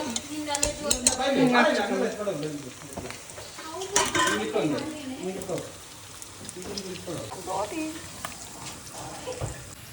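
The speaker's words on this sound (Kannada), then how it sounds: "now we are making boti fry. Pepper fry." Boti pepper fry of tripe being stirred and fried in a pan: a soft sizzle under intermittent scraping and clattering of a utensil against the pot, with a person talking over it at moderate volume.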